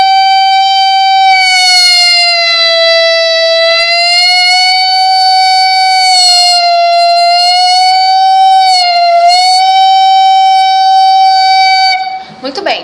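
A sustained saxophone note holds steady and repeatedly sags lower in pitch as the player opens the throat, then swells back up, loud and close, with a brief scuffle at the end.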